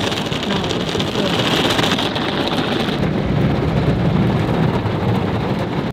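Water spraying inside a car wash, a loud continuous hissing rush that drums on the car and fills the whole stretch, close, with no talking.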